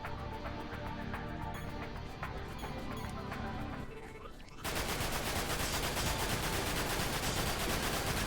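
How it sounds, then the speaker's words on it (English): Gun turret in Dirge of Cerberus: Final Fantasy VII fires in fast continuous bursts, loud and dense, with a brief lull before a sustained heavier volley; no voices. "This exercise will focus on the gun turret."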